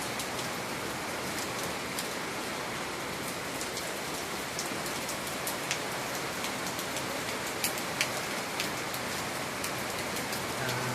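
Heavy rain pours steadily and loudly in the Philippines, a dense constant hiss of drops striking surfaces that fills the whole stretch with no let-up and no voices.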